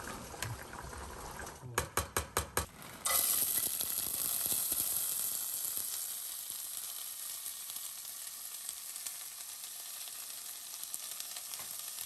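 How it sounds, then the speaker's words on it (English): A few sharp clinks sound, then a steady hissing, bubbling sizzle takes over from a pot of water boiling for rice on the stove, continuous and close. "it looks like the water is boiling for the rice"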